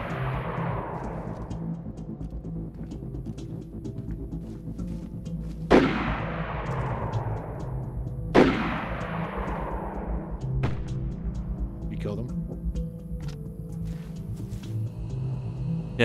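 Distant rifle shots crack across a forest compound in DayZ, two sharp reports with long echoing tails and a fainter third, spaced a few seconds apart over quiet ambient hum.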